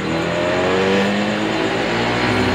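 Yamaha Mio i 125 scooter engine running at close range, a steady, loud idling drone with a constant buzzing hum and no voices over it.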